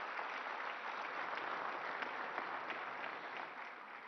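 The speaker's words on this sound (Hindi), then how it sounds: "आपकी तालियों के साथ" A large audience at the Northeast investors summit in 2025 claps steadily, a continuous wash of many hands heard at a moderate distance, holding an even level throughout with no voices over it.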